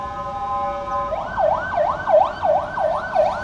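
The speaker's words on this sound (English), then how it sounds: "There goes an ambulance over here." An ambulance siren in a city street near a public square in Yerevan starts as a steady tone, then switches to a loud, rapidly wailing pattern close by.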